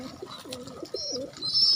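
Pigeons cooing close by in a loft, soft throaty rolling calls repeated over a brief stretch.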